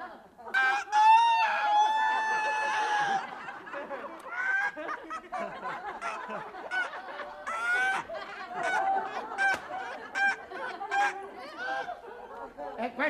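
A voice imitates a rooster crowing, with one long stretched crow followed by repeated shorter crowing calls and bursts of laughter and chatter around it.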